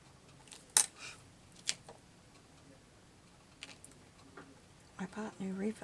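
Scissors snipping paper for a junk-journal card, a few sharp close clicks and short cuts scattered through quiet, followed by someone talking over the last part.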